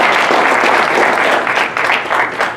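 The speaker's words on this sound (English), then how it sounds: "Let's give those wonderful believers another round of applause" A crowd at an award banquet breaks into dense, loud applause, with many hands clapping continuously in a full, close wash of sound for the whole moment.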